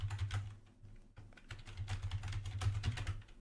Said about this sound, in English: let me just type that in